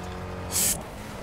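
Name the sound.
car driving in Burnout Paradise video game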